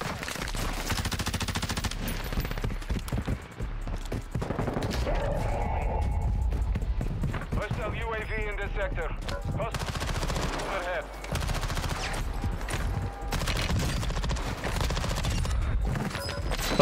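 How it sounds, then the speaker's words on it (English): Rapid automatic gunfire rattles almost continuously in a Warzone 2 match, with dense bursts from several weapons, loud and close, broken by brief lulls and layered game effects. "I'm being shot by so many people"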